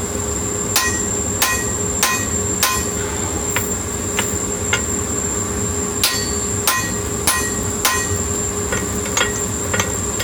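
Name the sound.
hand punching a hammer eye in 1045 steel billet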